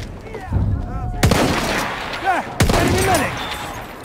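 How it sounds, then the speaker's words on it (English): Battlefield 1 gunfire during a tank battle, sharp bursts with loud onsets mixed in with chaotic battlefield noise, while voices shout over the shooting. "Machine gun, look like!"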